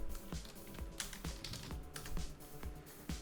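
Rapid computer keyboard typing in the Rhino 3D modeling program, a steady run of crisp, close keystrokes at an uneven rhythm with no talk.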